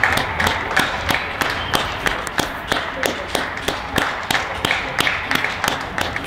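Evening applause from balconies for health workers, with steady rhythmic clapping in a regular beat, fairly close and loud, a few hands striking together continuously with no voices.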